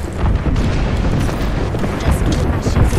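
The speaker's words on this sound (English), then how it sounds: "Heads up, we've got an airstrike coming in." Airstrike blasts in the video game Apex Legends: a dense, continuous rumble of heavy booms and bursts fills the whole stretch, loud and close, with no gap between impacts.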